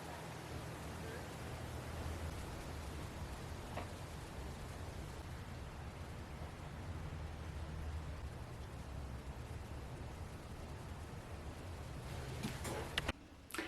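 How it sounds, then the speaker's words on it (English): Rain falls outdoors as wind picks up, a steady, even hiss of wash with no voices, ending in a few sharp knocks and rustles near the close. "It started to rain. The wind was picking up"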